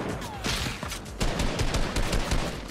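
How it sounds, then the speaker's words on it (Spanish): A rapid burst of overlapping gunshots rattles through a busy Fortnite video game firefight, loud and close, as dense irregular cracks that briefly ease and then intensify again. "también un montón de tiros"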